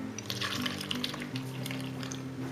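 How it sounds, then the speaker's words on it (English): Buttermilk is poured into eggless chocolate cake batter in a bowl, a soft liquid trickle with faint wet splashes, quiet and close over a low background hum. "To this I'm going to add my buttermilk."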